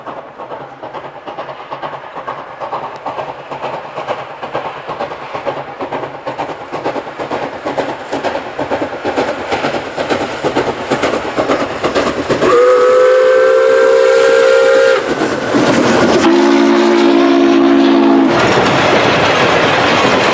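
Steam locomotive Pere Marquette 1225 chugs closer with rhythmic beats and rail clatter, then blows loud, long whistle blasts in two different tones, its own and a guest whistle from Norfolk and Western 611, as it passes.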